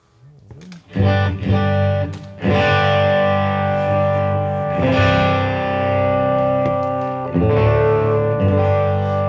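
Electric guitar through a Klon overdrive pedal playing sustained chords with a warm, gritty tone and some echo, loud and close, no talking.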